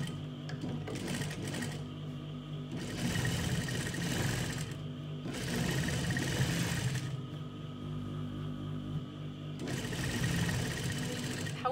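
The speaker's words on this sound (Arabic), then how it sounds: "غادي نخيط دابا هاد البلاصة هادي." A sewing machine stitches a seat of layered fabric for a cover, its motor running in several bursts of steady rapid clatter with short pauses between, fairly close and moderately loud, with no talk over it.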